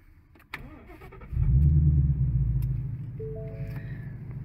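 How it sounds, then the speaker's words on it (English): A 2016 Ford Mustang GT engine cranks and fires at about 1.3 seconds, surging into a loud, close idle rumble that settles slightly, with faint tones chiming over it. "then you're just going to start the car"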